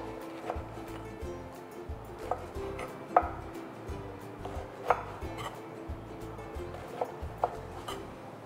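Eggplant diced with a knife on a cutting board, a soft run of quick regular chops with a few sharper knocks, close but quiet with no voices.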